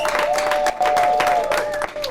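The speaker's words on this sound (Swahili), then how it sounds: "Na watu wa Mungu wachape makofi ya bien." A wedding congregation claps and cheers in a church hall, a steady wash of applause mixed with crowd voices and a sustained tonal sound running through it.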